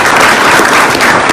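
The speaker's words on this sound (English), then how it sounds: "let's welcome them with a round of applause" An audience at a fintech accelerator event applauds to welcome a cybersecurity startup's presenters, a brief, loud, dense burst of clapping with no voices.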